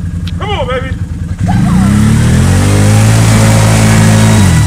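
An ATV on a riding course revs its engine; the note climbs and then holds at a loud, steady high pitch, with a brief voice at the start.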